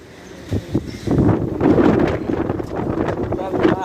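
Wind blows outdoors in Saudi Arabia ahead of a sandstorm, buffeting the microphone in loud gusts and rumbles while someone talks over it.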